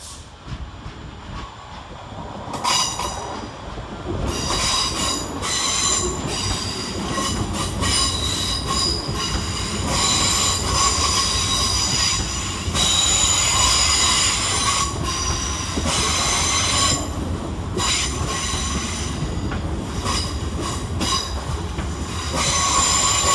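London Northwestern Railway Class 350 electric trains pull into Wolverhampton station, a loud sustained rumble with high, piercing wheel squeals that rise and recur throughout, with no voices.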